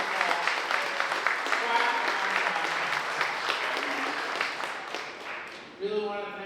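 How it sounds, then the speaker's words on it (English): An audience at an awards ceremony breaks into a sustained round of applause, dense clapping that fills the room for several seconds before tapering off, with a voice coming in over the end. "big round of applause for Paul."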